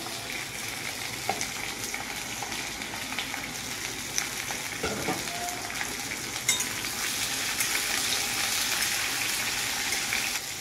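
Steady, dense sizzling of vegetables frying in a pan, close and constant, growing slightly louder toward the end, with no voices.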